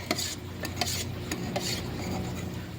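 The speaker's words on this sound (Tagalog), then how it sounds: "Haluin muna natin mabuti." Candy violet paint being stirred in a container, soft scraping and rubbing strokes repeating at an uneven rhythm, close but faint, no talk.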